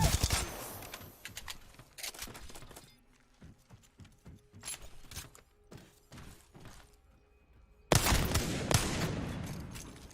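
Gunfire from the Wingman pistol in a video game, sharp repeated shots in bursts with mechanical clicks between them, quieter in the middle and then a loud dense volley near the end, with no talking.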